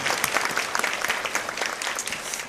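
A church congregation at a Sunday worship service claps steadily to welcome an orphanage director and his wife, a dense, even wash of applause from many hands filling the room, with no voices.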